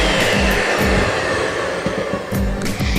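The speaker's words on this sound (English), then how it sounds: "Take your medium bowl, then take your whipping cream, then put it in there. Then just whisk it until soft peaks form." An electric mixer whisks whipping cream in a medium bowl for a no-bake single-serve cheesecake, giving a steady, loud motor whir with a faint rhythmic beat, running nonstop with no talk.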